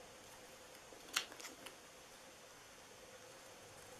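Scissors snipping out a paper lollipop holder, a brief cluster of crisp cuts and a paper rustle near the start against a quiet, hissy background, no voices.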